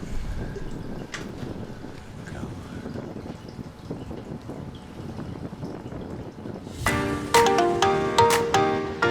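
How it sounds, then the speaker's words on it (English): Strong wind buffets the microphone across a golf course in a continuous rumbling roar, with a louder burst of tonal noise near the end. "You can see it's still ripping wind."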